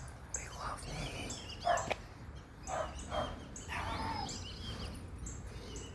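A dog gives a few scattered barks at mosquitoes at moderate distance, with quieter moments between and faint chirping in the background.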